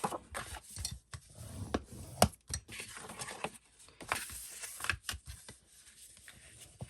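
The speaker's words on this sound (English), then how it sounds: "fold and burnish both pieces all over" Folded paper pieces for a craft box being burnished by hand, a series of short soft rubbing and scraping strokes in irregular rhythm, close and fairly quiet.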